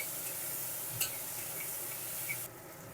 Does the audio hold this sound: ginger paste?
yes